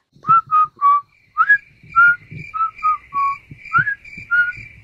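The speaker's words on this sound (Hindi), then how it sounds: "इनसे सीटियां रिकॉर्ड करवाते हैं" A person whistles a short melody alone, a string of clear, bright notes with brief pauses between phrases, close and fairly loud.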